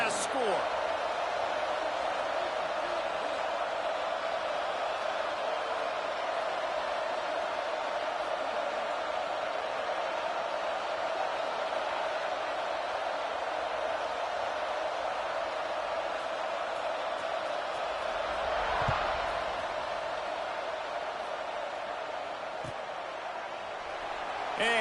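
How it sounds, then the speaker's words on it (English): A steady broadband roar from a football stadium crowd at an Arkansas vs. Nebraska game carries on without a break, with a commentator talking over it throughout. "this crowd is buzzing after that last score"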